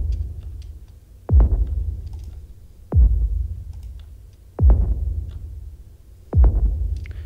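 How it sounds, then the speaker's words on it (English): Four heavy impacts processed with overdrive and reverb strike at even intervals, each a sharp thump that swells into a long, wobbling low-end decay. "I have added an overdrive and a reverb. And now the impact sounds like this."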